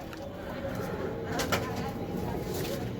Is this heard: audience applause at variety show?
no